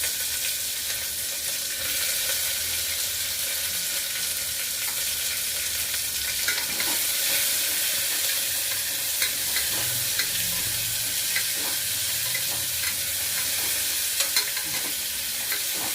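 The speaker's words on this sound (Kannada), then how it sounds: "ಈರುಳ್ಳಿ ಮತ್ತು ಒಣಮೆಣಸಿನ್ಕಾಯಿ ಇಟ್ಟಿದ್ನಲ್ಲ ಅದನ್ನ ಹಾಕ್ಕೊಳ್ತಾ ಇದ್ದೀನಿ" Onion and dried red chillies frying in hot oil in a pan for tomato bath, a steady hiss of sizzling with occasional stirring scrapes and small pops throughout, close and continuous with no talking.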